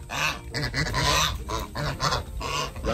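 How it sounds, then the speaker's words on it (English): A flock of farm geese honks loudly and continuously at close range, overlapping calls filling the air as the birds gather around a pool set out for pigs and geese. "Here come the geese."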